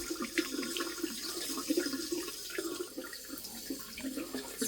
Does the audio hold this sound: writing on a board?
no